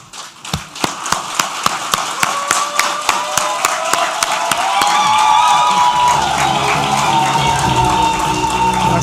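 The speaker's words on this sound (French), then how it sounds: "Je voudrais que tous les récipiendaires se lèvent pour applaudir et clamer très fort encore le corps enseignant ici présent ce matin." Graduates at a diploma ceremony stand and clap for the teaching staff, starting with slow rhythmic unison claps that build into loud, dense applause and cheering from the crowd.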